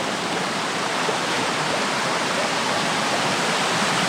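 A waterfall where a narrow channel of water pours over rocks, roaring steadily and loud at close range, a dense unbroken rush with no voices.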